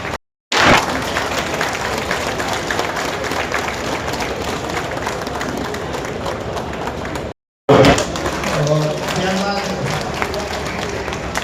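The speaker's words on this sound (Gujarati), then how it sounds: "તાળીઓના ગગડાટથી હોલ હંમેશા ગુંજતો જ રહેવો જોઈએ।" Applause filling a hall at a community felicitation ceremony, a dense sustained clapping from a crowd that breaks off briefly and then resumes loudly.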